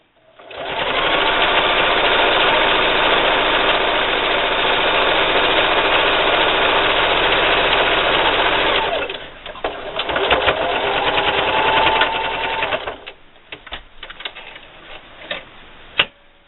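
A sewing machine runs steadily for about eight seconds while stitching a long straight seam along a patio umbrella strap, then stops briefly and resumes in a shorter burst before falling quiet with a few faint clicks.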